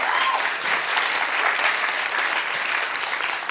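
A studio audience at a comedy show breaks into steady, full applause after a remark about Kamala Harris, dense clapping holding loud and even from start to finish.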